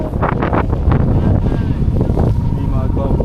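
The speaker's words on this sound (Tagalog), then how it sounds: "Lakas ang hangin, no?" Strong wind gusting across an open ski slope near Mt. Fuji, buffeting loudly and steadily throughout, with people talking close by under the roar.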